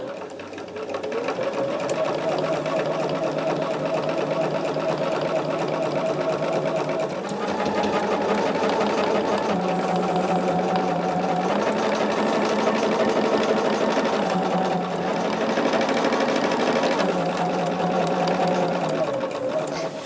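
A sewing machine stitches along a quilt edge in a continuous close whirring run whose pitch and speed shift a few times, with a voice talking over it throughout.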